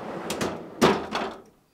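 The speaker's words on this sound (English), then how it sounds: "Start by opening the freezer door" A GE refrigerator's freezer door is pulled open, giving a few close, soft thumps and a seal-release bump over about a second before the sound fades out.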